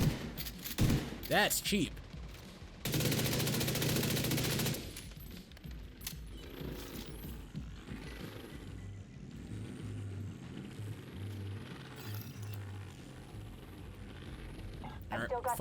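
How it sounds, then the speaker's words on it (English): A mini turret in The Division 2 fires a loud sustained burst of automatic gunfire for about two seconds, followed by scattered shots and game noise while a person speaks. "Oh, they got a mini turret."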